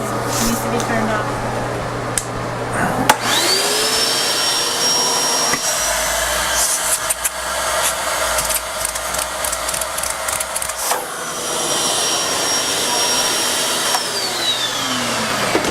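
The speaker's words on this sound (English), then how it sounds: "Use the vacuum." A workshop vacuum cleaner drones steadily and loudly, its whine shifting in pitch as it starts up and winds down, with a voice speaking over it.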